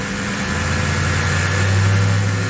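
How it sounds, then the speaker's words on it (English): A 2007 BMW 328xi E90 with a stalling problem idles steadily nearby, its low, even engine hum and faint vibration running unbroken without any talk. "It is idling."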